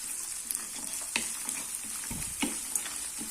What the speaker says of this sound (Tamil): இப்போ இது கொஞ்சம் நல்லா வதங்கட்டும்